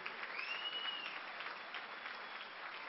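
Warm applause from a rural supper gathering, a steady dense patter of many hands clapping evenly for three seconds at moderate distance, with a faint whistle rising briefly near the start.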